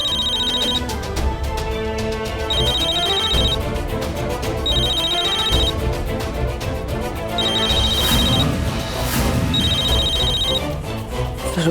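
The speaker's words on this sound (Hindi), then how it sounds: "मेरा नहीं, निशी का फोन बज रहा ह" A mobile phone rings with a repeating electronic ringtone in steady bursts, loud and continuous over a bed of background music.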